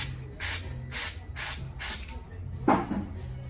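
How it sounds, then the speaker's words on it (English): Four short bursts from a spray can of adhesive glue hiss in a steady rhythm, each lasting under half a second, then one final burst follows a brief pause. "we'll spray a little glue on that"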